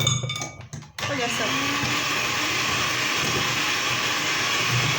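An electric mixer whipping cream for homemade ice cream starts after a brief moment of talk and then runs as a steady, loud, close whir throughout.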